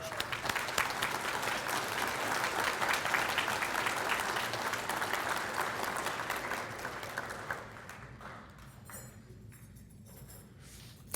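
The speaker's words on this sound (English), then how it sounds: "Let's give this young man a round of applause." A large crowd at a memorial celebration of life applauds loudly and steadily for several seconds, then the clapping thins out and fades to scattered claps.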